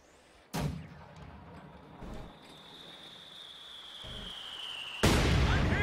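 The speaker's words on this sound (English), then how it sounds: "Mortar blasting away at the MG34." Mortar firing in Company of Heroes 2: several sharp, heavy blasts spaced a few seconds apart, the last one loudest, with a long thin whistle of the incoming shell between them.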